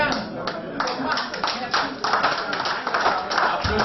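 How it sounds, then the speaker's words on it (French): Audience clapping at a French-speaking testimony event, a steady wash of applause running throughout, with a voice briefly speaking over it. "Applaudissez encore"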